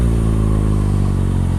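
A Kawasaki 636 sport motorcycle pulls hard in second gear for a wheelie, its engine a steady, loud, close buzzing roar with strong low harmonics and no pauses or talk.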